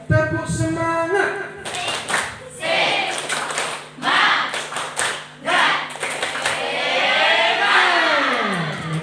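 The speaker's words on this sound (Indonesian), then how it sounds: "Tepuk semangat." A group claps a rhythmic spirit cheer at a school literacy event at an Islamic senior high school, with loud bursts in repeated patterned volleys and voices mixed in.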